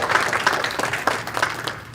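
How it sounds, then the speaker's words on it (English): An audience at a talk on community health services breaks into applause, with individual claps audible in a steady, moderately loud patter that gradually thins out. "We need to applaud"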